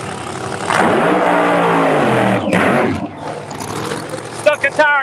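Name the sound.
race cars doing burnouts on a drag racing track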